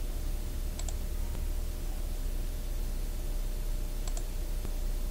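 Computer mouse clicking in Compax3 motor setup software, two faint sharp clicks several seconds apart over a constant loud hiss of background noise.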